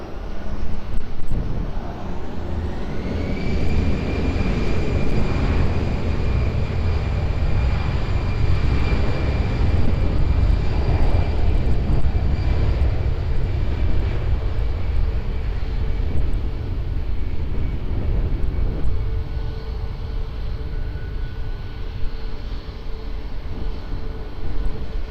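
An airliner takes off from runway 20 at Lisbon Airport with a loud, sustained engine roar and a rising whine that holds steady, then eases slightly toward the end.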